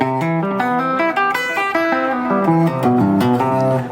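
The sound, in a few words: guitar arpeggio with sweep and legato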